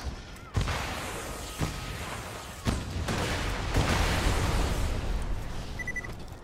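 Rocket explosions in Borderlands 2: a few loud thumping blasts early on, then a sustained rumbling roar of battle noise that fades slightly toward the end.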